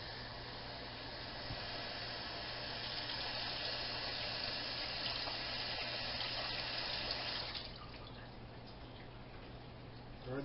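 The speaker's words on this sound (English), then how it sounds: "what we're doing is putting the water into the bowl and using our hand to stir it" Cold tap water runs steadily into a bowl of rice for about seven seconds, a close, continuous rushing splash that then cuts off, leaving faint drips and quiet handling.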